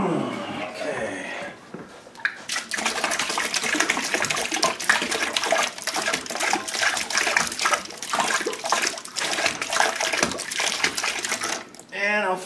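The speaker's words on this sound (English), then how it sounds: "And now to top up with some cold water." Cold tap water pours steadily into a plastic beer fermenter for a Coopers Heritage Lager brew, a loud continuous rushing splash lasting about ten seconds, with brief talk at the start and end.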